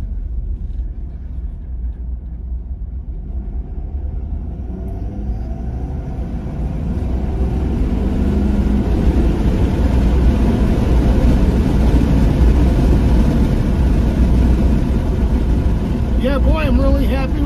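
A Ford Super Duty turbo diesel truck pulls away on hand controls, its engine a steady loud drone that rises and fills out as it accelerates, with road rumble throughout.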